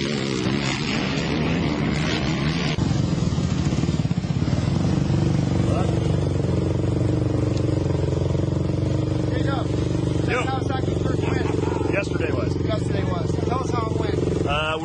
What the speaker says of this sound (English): Team Kawasaki seemed to be working out the bugs with the all-new KFX 450R as factory racer Josh Kramer took the win in